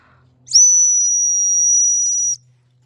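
A single loud, steady whistle blast, about two seconds long, is blown to call dogs back during an outdoor walk, with quiet before and after.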